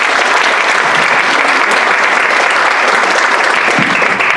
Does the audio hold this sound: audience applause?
yes